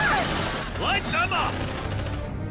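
Gunfire against xenomorphs in Aliens: Dark Descent, a rapid burst of loud shots with chirping alien screeches, tumbling on under someone talking.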